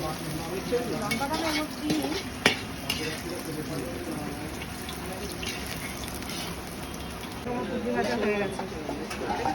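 Ivy gourd (kundru) frying in a pan with a steady sizzle and occasional stirring clinks, with people talking over the cooking.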